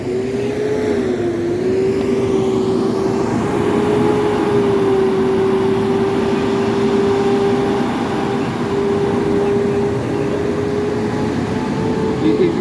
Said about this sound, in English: He's revving the engine.